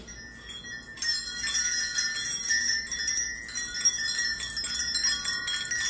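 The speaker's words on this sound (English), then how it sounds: "Y'all hear those bells? That wind chime." Wind chime bells ring and tinkle continuously outdoors, starting with a bright burst and then jingling on in overlapping, shimmering tones at close range, with no talking.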